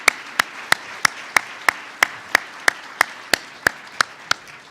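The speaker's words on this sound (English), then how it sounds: "let's give a round of applause for these wonderful presentations" Audience applause after panel presentations at a terrorism conference, a soft bed of clapping crowd with a regular series of sharp, loud nearby claps punching through about every third of a second.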